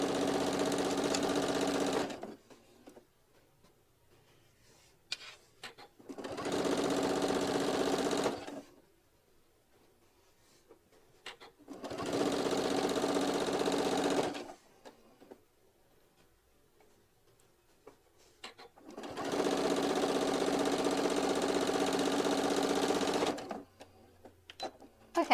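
A sewing machine runs basting stitches along fabric strips in several rapid, even bursts of mechanical clatter separated by quiet pauses while the fabric is readjusted, close and alone with no talk.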